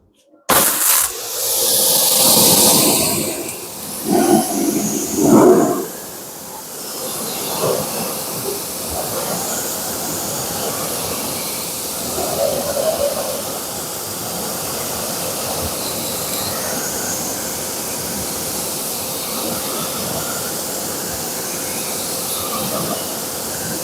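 Water spray rinses a car wheel and tire after a wheel and tire cleaner, a strong close hiss with a few louder bursts early on, then settling into a steady rushing spray throughout.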